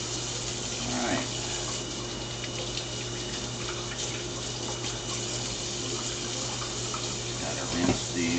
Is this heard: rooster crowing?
no